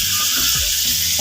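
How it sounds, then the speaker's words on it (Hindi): Ginger and garlic paste frying in a pan for an aloo bhindi sabji, a steady close hiss of sizzling oil with faint stirring, no talking. "इस तरह से हम अदरक को भी फ्राई कर लेंगे"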